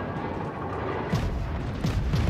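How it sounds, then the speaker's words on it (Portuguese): Naval guns firing in the World of Warships cruiser game, a few muffled booms breaking through a dense, steady wash of in-game battle noise. "Só mais uns dois, três tiros."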